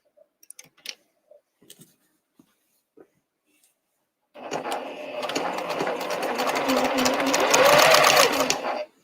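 A sewing machine stitches binding onto a quilt. A few scattered light clicks and taps give way to a steady, fast mechanical whirring that runs unbroken until it stops abruptly at the end.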